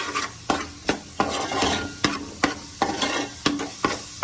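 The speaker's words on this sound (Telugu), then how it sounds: "ఇవి కూడా వేసి మొత్తం ఒకసారి సిమ్లోనే వేగనివ్వాలండి." Crab curry masala fries on low heat with a constant sizzle, while a spoon scrapes and taps the pan in a regular rhythm, roughly every half second.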